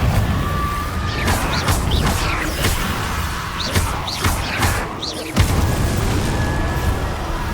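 Confringo blasting spell in the video game Hogwarts Legacy, a rapid series of sharp booms, thuds and crackling impacts over dense battle noise, ending in one louder blast.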